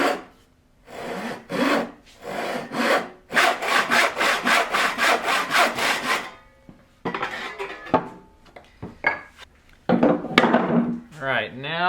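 Hand sawing through a wooden workpiece to cut a piece off, close and rhythmic: a few slow strokes, then a quick run of even back-and-forth rasps, followed by scattered scrapes and handling noises.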